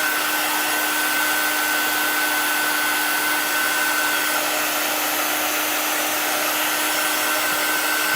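A hair dryer blows steadily and loudly up close, drying chalk paste painted onto a dog transfer design; one unbroken whooshing roar with a faint steady whine, no pauses.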